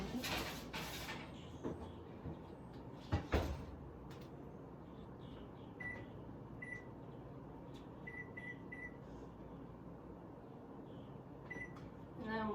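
A tray of chocolate chip cookies going into an oven preheated to 350 degrees: a couple of sharp metallic clanks and a door thud early on, then a quiet room hum with a few faint beeps.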